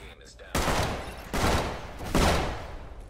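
An enemy's gun fires in Decaying Winter: three loud, evenly spaced bursts crack close by, each decaying before the next.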